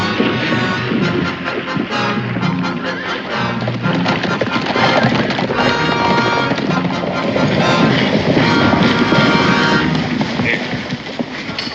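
Horse neighs and hooves clip-clop among noisy outdoor action in a western television drama, a loud busy mix with voices and wind throughout.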